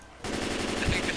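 Rapid automatic gunfire from the zombie shooter Left 4 Dead 2, a brief dense burst that starts abruptly and holds steady at close range with no talk.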